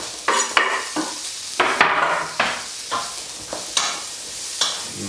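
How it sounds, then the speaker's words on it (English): Chorizo fries in a pan over medium heat, with its fat melting, under a steady low sizzle broken by repeated sharp scraping strokes of a utensil stirring it, about a dozen in quick irregular rhythm. "it starts to be a little bit oily here, and that's the fat of the chorizo that is melting"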